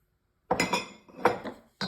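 Three beaten eggs whisked in a bowl over broccoli for a cheesy broccoli dish, giving a few quick bursts of close metallic clinking against the bowl with short pauses between.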